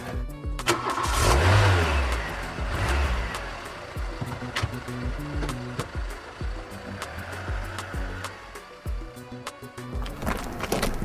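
A car engine cranks and starts, then revs and pulls away outdoors, a loud rumble that settles into a steady running drone.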